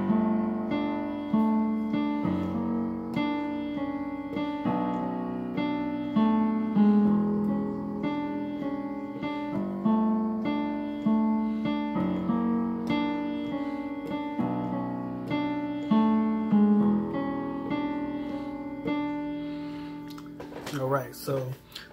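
Solo piano plays the chord progression of a song, sampled from another song, in evenly paced repeated chords with bass notes. The piece is clear and close and ends with a brief burst of noise.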